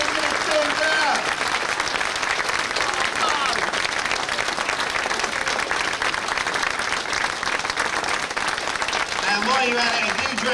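An audience gives a loud, sustained round of applause for the founder of the Dave Wellman Cancer Trust at an evening event. The clapping is dense and continuous, and a few voices carry faintly through it.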